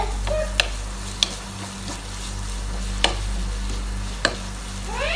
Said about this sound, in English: We'll add the ginger garlic paste and the crushed green chili. So I'm adding this 1 tablespoon and we'll mix it very well.